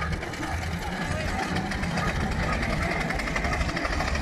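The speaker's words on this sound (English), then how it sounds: "Foden engine there, the steam lorry." A Foden steam lorry runs at a steam rally, giving a dense steady chuffing and mechanical clatter close by, with a continuous rumble and crowd noise throughout.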